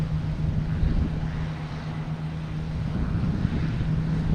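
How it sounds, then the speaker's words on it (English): American Airlines 737 MAX 8 taking off, a steady broad jet roar with low rumble and a sustained hum, moderately loud and distant, mixed with wind buffeting and no voices. "737 MAX 8 heading to Miami."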